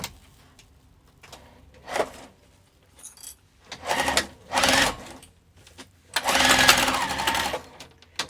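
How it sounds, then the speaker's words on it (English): Sewing machine stitching across the bottom of a crossbody bag, running in several short bursts of varying length with brief pauses between, close and fairly loud, with the longest run near the end. "Just going to meet those two and sew across the bottom."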